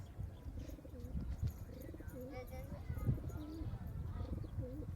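Pet pigeons coo in soft repeated rolling calls at moderate distance, mixed with a low background rumble and occasional human voices nearby.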